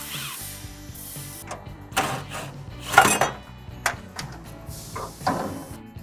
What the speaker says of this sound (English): So we're gonna pull the shock out first.